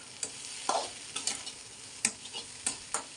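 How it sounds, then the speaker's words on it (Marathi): Leftover stale chapatis frying in a pan, a steady sizzle broken by a few sharp scraping strokes as they are stirred, close and clear with no voices. "आता हे फ्राय करून घेते शिळ्या चपातीच्या"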